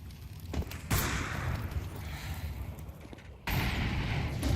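A grenade goes off in a competitive Counter-Strike match, with a sharp boom cutting through ongoing gunfire and game noise, then a second loud burst a few seconds later.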